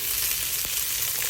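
Leftover chicken adobo frying in a pan, giving a steady, close hiss of oil with no break and no talk, plus one soft click partway through.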